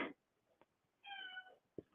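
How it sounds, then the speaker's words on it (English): A cat meows once, a clear drawn-out call at close range, with a few soft bumps and clicks around it in an otherwise quiet room. "Cat's over here meowing"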